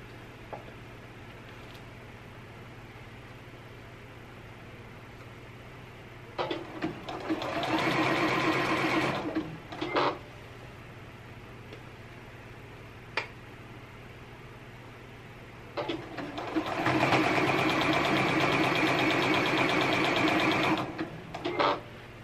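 A sewing machine stitches elastic onto bra fabric in two distinct bursts of rapid, steady whirring, each a few seconds long, separated by quiet pauses with faint handling clicks.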